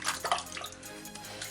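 Water sloshes and splashes inside a bucket as a sink P-trap is shaken to loosen debris. The churning is steady and nearby, with a few louder splashes near the start.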